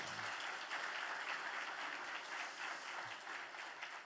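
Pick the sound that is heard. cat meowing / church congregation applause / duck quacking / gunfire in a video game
church congregation applause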